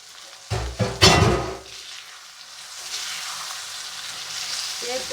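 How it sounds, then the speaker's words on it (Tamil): Squid dropped into a hot frying pan sets off two sharp loud bursts of sizzling up close, which settle into a quieter steady frying hiss. "இப்போ நான் கணவாயை சேர்க்குறேன்."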